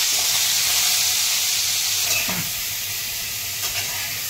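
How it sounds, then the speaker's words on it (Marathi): Turmeric-and-salt-rubbed brinjals fry in hot oil with a steady, close sizzle and faint hiss, broken by a few light stirring knocks. "आता हे तेलामध्ये थोडे आपल्याला फ्राय करून घ्यायचे"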